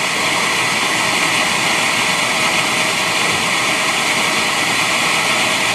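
Oil burner blower in post-purge after the flame and solenoid valve shut off, a steady, loud, broadband whoosh of rushing air with a faint hum, continuous and unchanging throughout.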